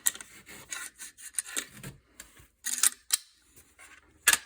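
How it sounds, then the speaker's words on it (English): An AR-style rifle is handled up close as it is popped open and its bolt carrier slid out, giving a series of metallic clicks, scrapes and sliding rasps in irregular bursts with short pauses between. "pop this open, remove the bolt carrier"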